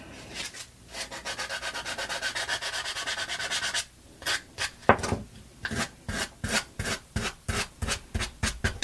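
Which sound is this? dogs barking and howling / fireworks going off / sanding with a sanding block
sanding with a sanding block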